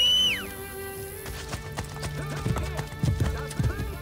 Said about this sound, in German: Pferd, du trabst immer am Ziel vorbei.